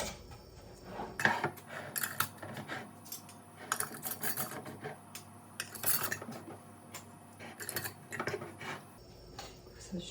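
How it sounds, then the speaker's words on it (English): Metal bands are screwed onto hot canning jars of apple butter, with repeated close metallic clinks, scrapes and taps in irregular bursts, fairly quiet overall. "Center your lids on and then add your bands"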